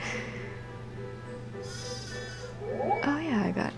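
Sheep bleating in the Harvest Moon farming video game, a wavering synthesized bleat rising near the end over soft background game music, with a quiet voice speaking underneath.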